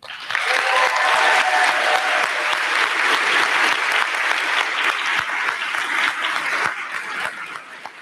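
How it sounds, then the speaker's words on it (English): A convocation audience gives sustained applause for a student service award recipient, a dense, steady wash of many hands clapping for the full stretch, with a faint chuckle and a few murmured voices underneath before it thins slightly at the end. "please join me in extending a round of applause and congratulations to the 2018 Jackson School Student Service Award recipient, Dr. Angelina Godoy"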